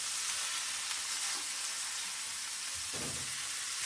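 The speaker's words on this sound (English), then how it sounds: "There's the burgers flipped over." Burgers sizzling on a Blackstone 22-inch E-Series electric grill, a dense, even hiss of frying fat that holds steady throughout with only faint shifts.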